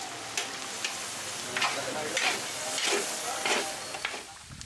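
Sliced beef offal and black beans being stirred in a pot, with repeated scraping, sloshing strokes over a steady soft sizzle, close and moderately loud with no talking.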